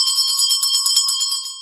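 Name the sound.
prayer bell ringing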